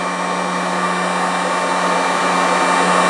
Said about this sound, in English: I'm just going to take the dryer there, that's